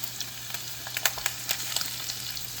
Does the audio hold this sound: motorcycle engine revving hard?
no